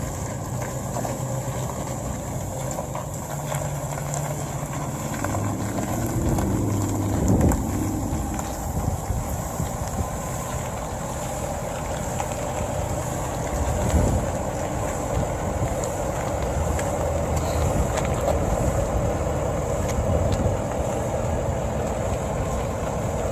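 A Ford F450 dually pickup truck runs through a turning test, its engine a low steady rumble under heavy wind buffeting on the microphone, with the drone swelling and easing as the truck moves.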